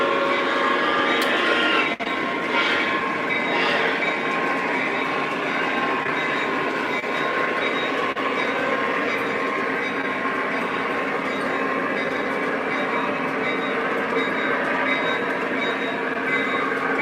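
Lionel MTH model Big Boy steam locomotive running on its track, a steady, loud rolling rumble with faint rail clatter held throughout, no talking.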